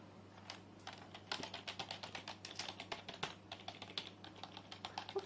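Quick, soft clicking of keys as someone types on a non-mechanical Aivia K8100 Gigabyte gaming keyboard, a quiet, fairly muffled patter of taps that speeds up in bursts with no talking.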